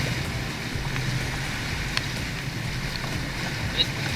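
Sailing vessel Prism under way off Isla Espíritu Santo, with a steady wash of wind and water noise running continuously and evenly, broken only by a few faint knocks.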